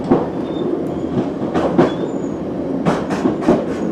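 A train runs on rails near Cathcart, Scotland, heard from onboard as loud, rhythmic clickety-clack wheel beats over a constant rumble, with no voices.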